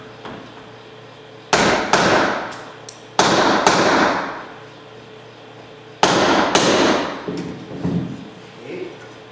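Several sharp hammer taps on a shim in a door jamb ring out, single strikes spaced apart and then a quicker pair, each with a short ringing decay.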